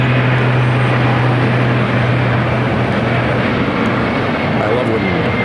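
A fixed-wing airliner rolls down runway 8 at Phoenix airport on its takeoff run, engines roaring loud and steady throughout with a low droning hum, heard from the spotting position.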